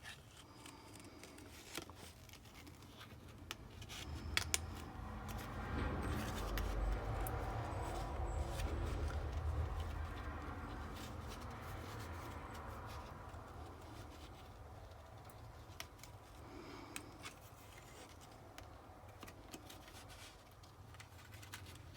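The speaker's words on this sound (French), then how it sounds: "c'est bien mon papier qui bouge et pas mes ciseaux pour découper" Scissors cutting paper while making a decorative box, with soft repeated snips and rustling of paper turned by hand, close and quiet, over a low background rumble.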